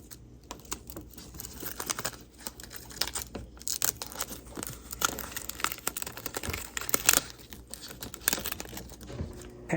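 Crinkly peeling and picking at a cheap Dollar Tree item, with irregular close-up crackles, taps and small tearing sounds running steadily throughout.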